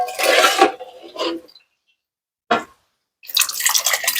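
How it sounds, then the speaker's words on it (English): Hot broth poured into a pot of chicken sausage and pilaf rice, heard as loud, close splashing pours in separate bursts with a brief splash between and short silent gaps. "We're going to add some more broth in there."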